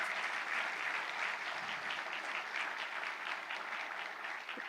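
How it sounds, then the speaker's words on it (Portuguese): A church congregation breaks into applause, many hands clapping in a brisk, steady patter with a lively rhythmic edge, sustained at even strength and fading slightly toward the end. "Dê uma salva de palmas a Jesus."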